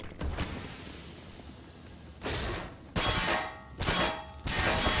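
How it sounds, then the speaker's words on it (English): Pistol shots in Counter-Strike, several sharp bursts spaced about a second apart and standing out loudly from the quieter in-game background, with no talking. "Well, I killed him with a pistol."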